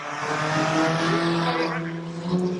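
Banger stock cars race around an oval track, engines roaring loudly and continuously with a brief tire squeal in a short burst.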